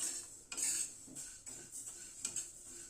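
Sona moong dal is dry-fried in a preheated kadai over a medium flame, with a spoon scraping and stirring the grains in soft, irregular strokes and clinks close by.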